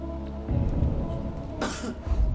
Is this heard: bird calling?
no